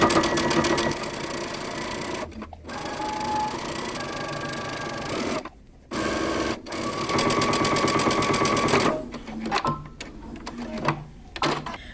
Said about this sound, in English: Now using a narrow zigzag stitch or a stretch stitch on your machine, we're going to stitch our hem in place